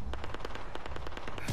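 Rapid bursts of gunfire in Fallout 76, a dozen or so evenly spaced sharp shots in quick succession, loud and close with no voices over them.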